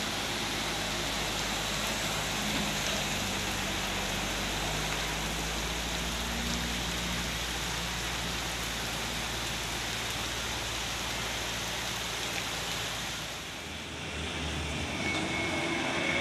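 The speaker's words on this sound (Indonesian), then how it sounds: "Hujan deras turun di si Tinjau Laut." Heavy rain pours on the steep, winding Sitinjau Laut mountain road with a dense, continuous hiss, and a low droning rumble runs underneath before easing briefly near the end.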